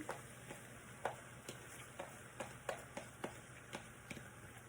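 Washed puffed rice (mandakki) is stirred into an oil tempering in a pan. Faint, evenly spaced taps and scrapes repeat about every half second over a soft, low sizzle.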